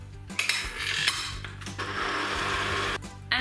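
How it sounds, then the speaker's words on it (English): A dry mix of flour, salt, sugar and dry yeast is stirred briskly in a bowl, giving a continuous close clinking and scraping of a utensil against the bowl for a few seconds. "and just give it a quick stir."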